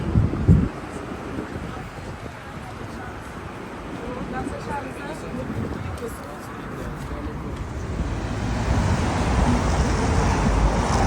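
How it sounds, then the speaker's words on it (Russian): Wind gusting across the Sochi seafront on a January evening, a steady rushing roar buffeting the microphone and building louder toward the end, with a voice talking over it. "Ветер сейчас дует, ветер."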